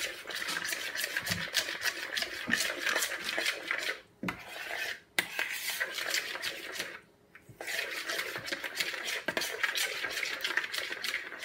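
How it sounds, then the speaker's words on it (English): A spoon scraping and stirring through a tuna and broccoli pasta bake mixture with bacon bits in a dish, rhythmic rasping strokes with two brief pauses. "So stir it until smooth"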